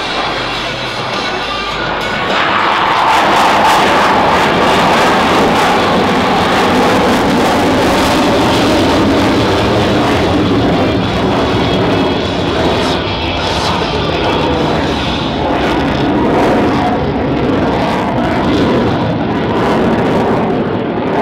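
An Italian Air Force Eurofighter EF-2000 Typhoon jet performing a loop at an airshow produces a loud, sustained roar that swells in after a couple of seconds, then slowly shifts and fades.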